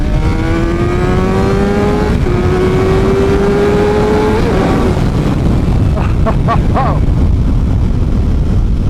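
Suzuki GSX-R 750 motorcycle accelerating hard through the gears without a quick shifter, engine pitch climbing steeply then dropping at each shift, loud and close with steady wind roar throughout.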